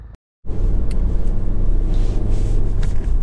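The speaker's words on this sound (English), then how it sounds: "this is a quick road test video, and this is for a Honda Jazz" Honda Jazz 1.5 i-VTEC Sport five-door hatchback, Euro 6, on a road test: after a brief silent gap, a steady low engine and road rumble runs continuously at an even level, with no talk.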